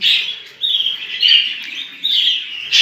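Budgerigars chirp loudly and close by in continuous high, warbling bursts while a male feeds a female, with short pauses between phrases.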